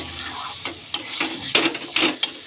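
Mutton pieces sautéing in a pan for a red goat-meat curry, with a steady soft sizzle broken by several louder scraping stirs of a spoon against the metal, close by and without talk.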